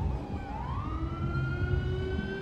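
An ambulance siren in Grand Theft Auto V with the LSPDFR police mod sounds as one steady, loud electronic tone that rises in pitch early on and then holds, with a low engine and street rumble underneath and no talking.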